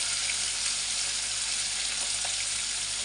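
Onion and potato frying together in a pan, a loud, even, hissing sizzle that runs unbroken throughout with no voices.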